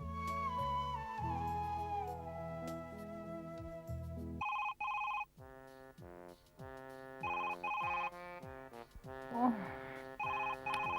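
A telephone rings repeatedly and goes unanswered in a home, its electronic ring tones repeating in bursts over background music and an occasional voice.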